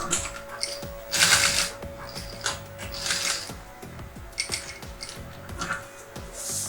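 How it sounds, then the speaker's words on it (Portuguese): A sewing machine stitches along the side of a fabric lunch bag, its needle clattering in quick mechanical bursts and whirring runs with brief pauses between, close and fairly quiet. "E eu começo costurando de uma das laterais aqui."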